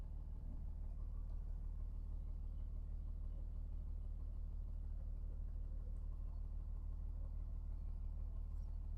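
A farm vehicle driving steadily across a farm on a stormy spring day, a continuous low engine rumble with road noise, close and even throughout with no talk.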